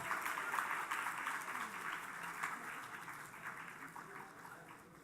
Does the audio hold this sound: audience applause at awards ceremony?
yes